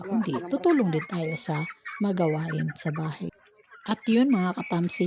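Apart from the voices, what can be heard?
turkeys gobbling on a farm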